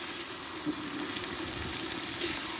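Spinach sizzling steadily in a hot pan right after water is poured in, a continuous soft hiss and crackle with small bubbling pops, close and fairly quiet, no voices.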